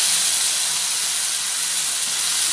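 Ground coconut and toor dal paste poured into a hot cooking pot, giving a loud, steady hiss that holds evenly throughout.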